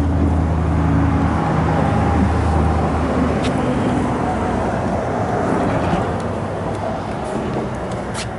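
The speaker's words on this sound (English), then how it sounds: "Car drives down the road beautifully." A 1955 Chevrolet Bel Air two-door hardtop drives along a road, a steady broadband rumble of engine and tire noise that holds fairly loud throughout, easing slightly toward the end.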